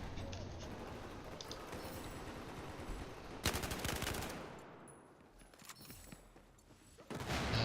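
Rapid automatic gunfire from a gun in the video game Battlefield 4, bursts of loud rattling shots with mechanical clatter between them, while someone talks over the action.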